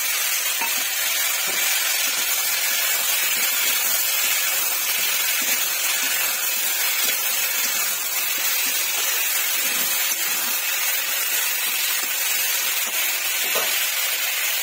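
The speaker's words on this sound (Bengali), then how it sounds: "ফুলকপিগুলো ভাজা ভাজা হচ্ছে" Cauliflower florets frying in a pan, a steady close sizzle and hiss that runs unbroken throughout, with faint stirring scrapes underneath and no talking.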